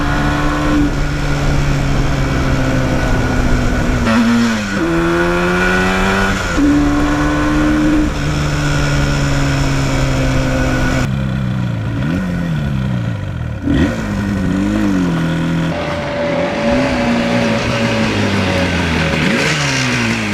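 A 1977 Yamaha RD400 two-stroke motorcycle on a country cruise, engine buzzing loud and close, revving up through the gears with pitch climbing and dropping between shifts, no talk.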